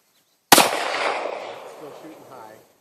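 A single loud, sharp handgun shot from a .357 revolver or Glock at an outdoor range, close by, with a long echoing tail that fades over about two seconds.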